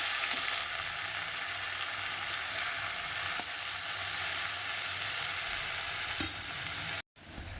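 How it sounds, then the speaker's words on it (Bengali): Okra fries in a pan with a loud, steady sizzle and crackle heard up close, with a brief clatter near the end before a sudden cut. "ওই জন্য একজনের ঢ্যাঁড়স ভাজা করছে"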